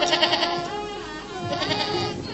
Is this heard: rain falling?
no